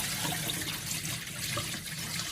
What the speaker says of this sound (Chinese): 接下来我们把排骨里面的血水倒掉